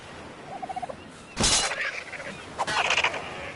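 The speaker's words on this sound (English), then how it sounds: "There's a dodo bird," Dodo birds in a survival video game give a series of honking, gobbling calls: a short stuttering run, then two louder bursts, heard close with game ambience and no talk.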